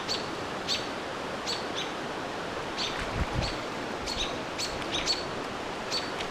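Young birds give repeated high, sharp chirping calls at irregular intervals while mobbing a barred owl in a Canadian park, moderately distant over a constant outdoor hiss and faint rustling.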